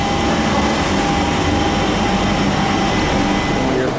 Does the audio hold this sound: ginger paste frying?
no